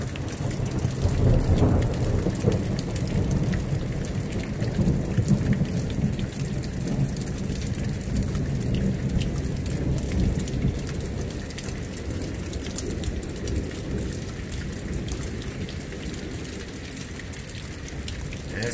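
Heavy thunderstorm rain pours steadily while deep thunder rumbles underneath, loud at first and then settling into a dense continuous wash, with no voices.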